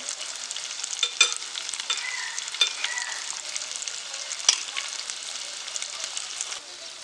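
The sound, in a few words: paneer balls frying and being stirred in a pan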